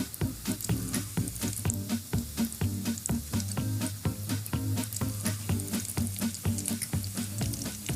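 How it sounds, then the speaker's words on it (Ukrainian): Breaded potato fagottini, dipped in egg and breadcrumbs, frying in a pan, a dense, steady crackling sizzle with rapid pops throughout, close and fairly loud. "І швиденько підсмажую до скоринки."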